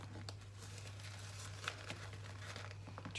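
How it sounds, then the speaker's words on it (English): Adhesive tape crinkling and tearing in soft bursts as it is stretched and wrapped around a squishy toy, faint and close against a steady low hum. "really make sure you're pulling it apart while the tape's going on, and then go ahead and wrap it around the back"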